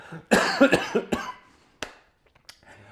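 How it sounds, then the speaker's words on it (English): A person coughs in a short burst of several close, loud hacks, followed after a pause by a couple of fainter single coughs and quiet breathing. "I'm going to cough."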